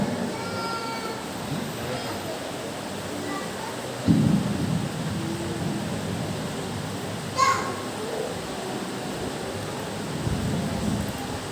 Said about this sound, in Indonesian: Hujannya tidak lagi rintik ya Tuhan, deras.